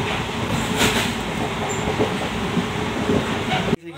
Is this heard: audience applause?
no